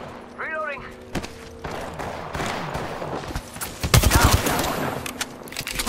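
Scattered bursts of gunfire in an Apex Legends Arenas match, mixed with close voice chat and game voice lines, with a louder volley of shots near the end.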